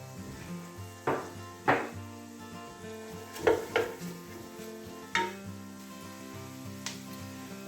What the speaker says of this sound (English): our onions and our garlic and our chilli have all been cooking down gently for about 8 minutes now